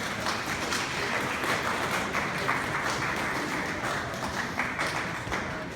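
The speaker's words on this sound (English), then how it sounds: "Let's give them a round of applause, folks" Lecture audience applause, a soft, distant-sounding patter of many hands clapping at a fairly steady level, muffled and low in volume throughout.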